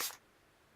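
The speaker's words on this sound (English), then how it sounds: "I'm just going to take some water and I'm just going to spray." A single short burst of a water spray bottle misting a paint palette, close and brief, then fading to quiet.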